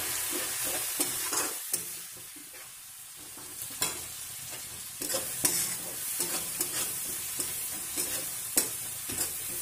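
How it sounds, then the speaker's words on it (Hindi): Masala of red chilli powder, coriander powder and cumin powder with a little water sizzles and fries in a pan for paneer masala, with a steady hiss broken by repeated scraping stirs. "मसाला को भून लेंगे।"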